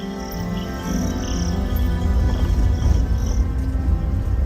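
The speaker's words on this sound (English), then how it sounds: "fell asleep to the sound of the crickets" Crickets chirp at night near a lakeside lodge in Uganda, with intermittent high, shrill trilling over a steady low rumble of the surrounding nighttime ambience.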